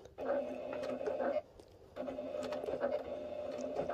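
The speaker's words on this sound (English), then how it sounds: "we're going to sew on the line that's right next to this line that we've already sewn." A sewing machine runs a short stitch length through upholstery fabric for a round tuffet ottoman, buzzing steadily in two close, even runs with a brief stop between them.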